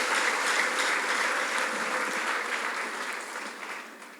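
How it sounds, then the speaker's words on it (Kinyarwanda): A congregation at a church prayer service for new campus leaders claps together in a sustained, even round of applause that slowly fades over several seconds. "dukomere Imana amashyi tubashimire"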